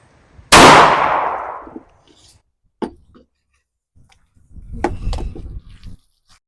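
A Taurus G2C pistol fired into water jugs for a ballistic test: one sharp, loud shot with a long ringing decay, then a faint click and a later burst of splashing, rustling noise.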